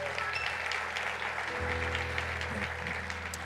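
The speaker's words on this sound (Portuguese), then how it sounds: "Vamos aplaudir o Senhor" A church congregation applauds during a service led by Bishop Miguel Ângelo, with steady crowd clapping throughout and a low hum of instruments or amplification underneath.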